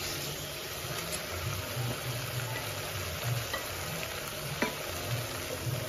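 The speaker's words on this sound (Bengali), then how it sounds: "মাছগুলো একটু মশলাগুলোর সাথে মিক্স করে দেবো" Tangra fish is stirred with spices in a sizzling pan for a sweet-pumpkin fish curry. Steady frying hiss runs under soft scraping stirs and an occasional clink of the spatula.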